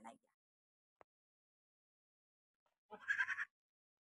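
A goat in an Assam village gives a single short, nasal bleat after a long quiet stretch, with a faint brief sound earlier.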